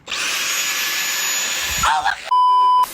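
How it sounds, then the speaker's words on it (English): A Dyson vacuum cleaner runs with a loud, steady high-pitched whine for nearly two seconds, then sputters briefly before a sharp electronic beep cuts in. "man's pulling out the Dyson"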